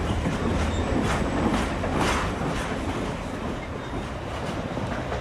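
A passenger train in India rolls along the railway with a steady, loud rumble and rhythmic clatter of wheels over the track, heard from on board without any voices.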